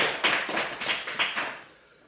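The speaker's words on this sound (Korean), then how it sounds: "우리를 구원하신 하나님께 영광의 박수를 드립니다." A church congregation claps together in a few strong rhythmic bursts, fairly close and loud, then the clapping fades out toward the end.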